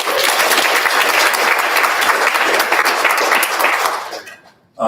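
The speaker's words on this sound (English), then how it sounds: "Give him a round of applause" Sustained applause from an audience at an evening master's thesis presentation, dense and steady clapping that fades out near the end.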